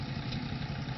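A tractor engine idles close by at a steady low chug, a continuous rumbling throb with no voices.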